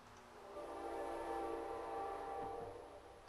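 A train passes at a distance, its steady rumble carrying a long, sustained horn blast. The sound is fairly faint and continuous, with no talking, drifting in from outside a town council meeting.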